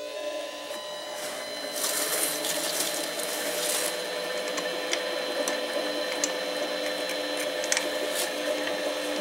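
A Harbor Freight 7x10 mini lathe motor runs steadily with a constant whine and hum, close and moderately loud, with a few brief clicks and rattles over the drone.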